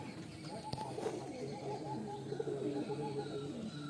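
Pigeons in a high-flying breed loft at Ranihati, Howrah, give low soft coos over a quiet murmur of background noise, with a couple of brief sharp knocks, faint and close.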